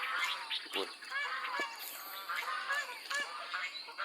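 Geese honking repeatedly nearby on a mixed farm, overlapping calls from several birds in an irregular chorus over quiet background.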